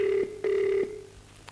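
A telephone rings during a radio call-in show, two long steady electronic rings close and clear, the second fading into quiet.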